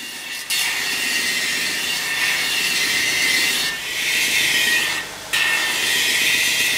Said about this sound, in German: schleife ich die obere Partie der Brustplatte mal grob vor